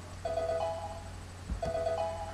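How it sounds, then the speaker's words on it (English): A Pokebar phone rings in the video game Pokemon Quartz: two short electronic ringtone bursts of bright, wavering tones, each about a second long, separated by a brief gap over a quiet game background. "My Pokebar is ringing."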